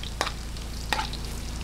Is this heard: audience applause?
no